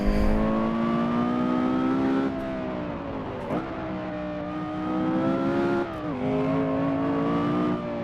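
Porsche Carrera GT engine in a racing game, a high-pitched V10 wail held at high revs, dipping sharply twice on quick downshifts before climbing again, loud and steady with no talking.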